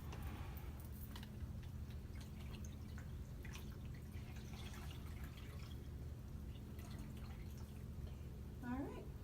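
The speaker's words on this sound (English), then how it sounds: "next you're going to wring the water out of this washcloth." Water dripping from a washcloth as it is wrung out during a hand-function task, heard as scattered close drips and a light trickle over a steady low hum, with faint voice-like sound in the background.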